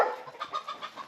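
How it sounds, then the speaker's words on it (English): Chicken clucking on a property guarded by farm dogs: a series of short, fairly quiet clucks in an irregular rhythm, close by, with no talk. "That chicken could have gotten away."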